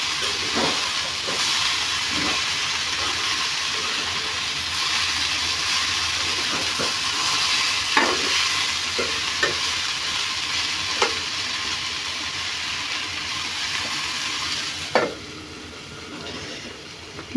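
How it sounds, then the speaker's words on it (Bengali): Vegetable bhaji fries in a pan with a steady, loud sizzling hiss, broken by several scraping, clinking stirs from a utensil against the pan. "ভাজিটা পুড়ে যাবে নাকি কে জানে।"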